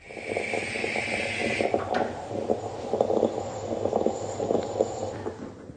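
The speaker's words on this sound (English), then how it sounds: "This is the sound of a mocha making its coffee." A stovetop moka pot brews coffee: a steady hiss of escaping steam gives way to irregular bubbling and gurgling that carries on at a moderate level, close by and with no voices.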